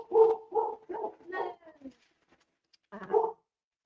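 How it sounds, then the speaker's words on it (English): A dog barks nearby in a quick run of four sharp woofs, then falls quiet before one last bark. "and I apologize for my dog."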